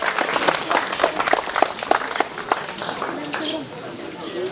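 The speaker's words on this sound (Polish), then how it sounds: "Wielkie brawa!" Enthusiastic applause from a crowd at an outdoor family picnic award ceremony, with steady clapping fading slightly over several seconds, under some background voices.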